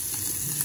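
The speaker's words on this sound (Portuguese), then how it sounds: "aqui o bacon e aqui fritando a calabresa e o bacon também" Bacon and calabresa sausage fry in a pan, giving a steady, close, crackling sizzle that fills the whole brief moment without any talk.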